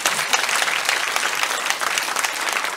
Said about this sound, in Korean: 반주 다 박수 한번 쳐주세요